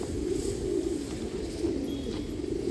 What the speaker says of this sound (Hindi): सारे सेलेक्टेड कबूतर है इनकी छत के ऊपर